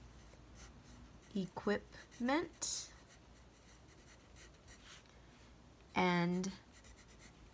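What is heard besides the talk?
writing on scratch paper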